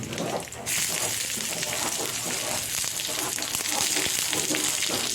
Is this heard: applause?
no